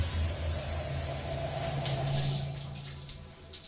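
Water from a tap or shower runs steadily onto thick curly hair, a continuous close hiss and spatter that fades slightly toward the end with a small splash near the close.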